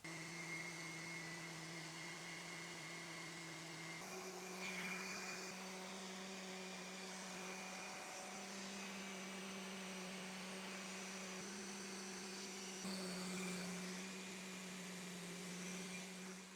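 A vacuum cleaner used to clean up during epoxy countertop work drones steadily at a moderate distance, a constant whirring hum that swells slightly a couple of times.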